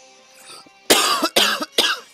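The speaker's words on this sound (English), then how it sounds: "Excuse me, I've still got the cough." Three sharp, loud coughs in quick succession, close by, after a quieter stretch of low background sound.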